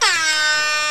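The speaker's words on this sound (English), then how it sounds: "this isn't time for fucking air horns" A loud air horn blast in a video game, a single sustained bright honk with rich stacked harmonics that starts sharply and holds steady for about a second with no voices.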